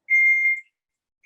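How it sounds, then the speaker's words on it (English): A kitchen timer goes off after a two-minute countdown in a home kitchen while chicken nuggets are being cooked: one steady, high electronic beep lasting about half a second, then silence, then a second beep starting at the end. "that's my 2-minute timer"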